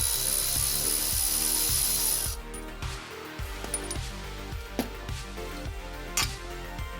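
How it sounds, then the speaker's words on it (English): A ratchet clicks steadily as a socket turns the bottom nut off a refurbished sway bar end link on an AE86, a rapid even series of close ticks with a few metallic knocks. "use the ratchet and socket to remove the bottom nut"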